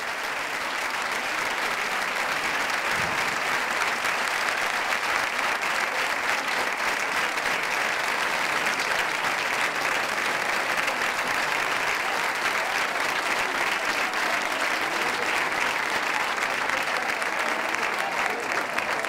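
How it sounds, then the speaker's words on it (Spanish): A festival crowd at a town's main summer fiesta in 2011 applauds the pubillas, dense, steady clapping that holds at an even level for nearly twenty seconds. "un aplauso para ellas"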